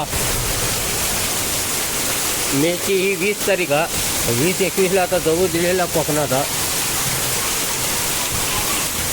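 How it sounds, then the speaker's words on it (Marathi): Heavy monsoon rain and wind pour steadily over a Konkan village, a dense continuous roar under someone speaking close by for several seconds in the middle. "पाऊस दाखवतो तुमका इकडे किती जोरात पडता तो"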